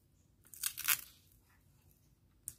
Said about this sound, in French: moi j'utilise un simple scotch